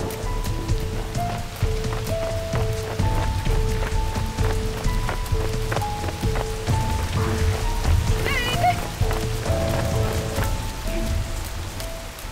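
Heavy rain falls steadily in a drama scene after a storm washed out a road, a continuous close hiss layered with a tonal background score and scattered thumps.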